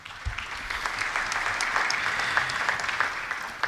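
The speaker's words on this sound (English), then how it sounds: "Another round of applause to Balozi, please." A conference audience in Nairobi breaks into sustained applause, many hands clapping in a steady, even wash with no pause.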